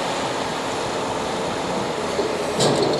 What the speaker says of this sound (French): il y a un camion benne juste à côté qui vide je sais pas trop quoi. Ça fait du bruit.